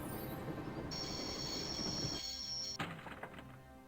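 A train in the Broken Sword point-and-click adventure game, the Shadow of the Templars, rumbles steadily before a high metallic squeal rises, then a heavy clunk as it comes to a halt, with a few clanks after.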